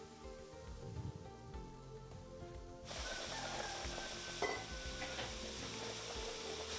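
Meat sizzling and browning in a pot for a festive daube, a constant frying crackle with occasional scrapes of stirring and utensil clinks, rising a little louder partway through.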